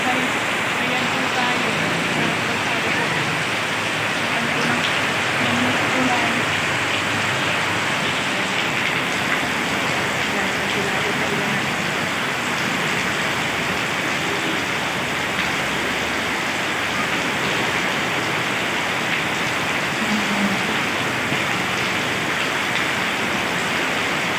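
Heavy rain pours down in a dense, constant roar that stays loud and unbroken the whole time, heard while riding an e-bike through floodwater.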